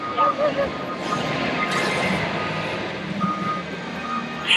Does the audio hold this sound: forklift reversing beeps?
yes